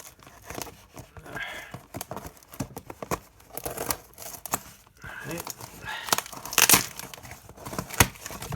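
Snipping and tearing of a sealed Lego set package with scissors, with crinkly crumpling and short sharp cuts in an irregular rhythm, close by.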